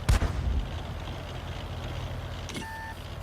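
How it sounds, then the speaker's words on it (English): Artillery shells landing in a tank video game, a heavy booming impact near the start followed by a low rumbling battlefield bed, then a second sharp crack and a brief electronic tone. "Arty rounds arcing through the sky."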